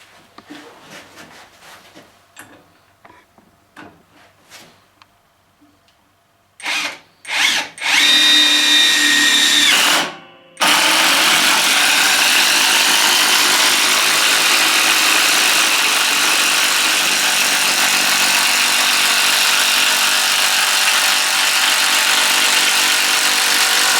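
A Graphite 58G024 cordless impact wrench unscrews a bolt: scattered clicks and handling, then short whirring bursts before a long, loud, sustained hammering run that continues to the end.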